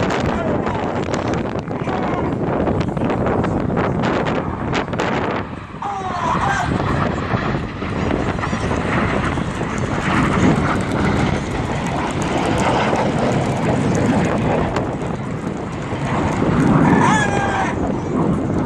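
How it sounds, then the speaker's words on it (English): Red Arrows display jets at the Wales National Air Show hold full power overhead, a loud, broad roar that swells and fades as they pass, with wind buffeting and a commentator talking over it. "Pilots leaving full power on their jets."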